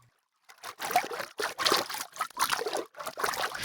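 Water splashes performed live as foley for picture come in about five separate sloshing bursts after a short silence. Each is close and fairly loud, with brief gaps between them.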